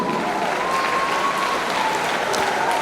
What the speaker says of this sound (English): Let's sustain the applause for the Vice Chancellor, please